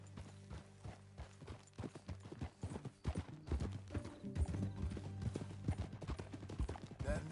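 Steady clip-clop of a horse's hooves trotting in Red Dead Redemption 2, close and clear, with some mechanical clattering and a sustained musical tone underneath.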